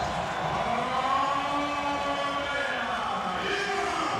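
Dense, steady roar of an arena crowd at a Spain versus Croatia handball match at EHF EURO 2012, with sustained horn-like tones riding over the broad cheering noise throughout.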